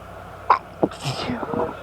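Two sharp sneezes, one after the other, close to the microphone, with people talking quietly afterward.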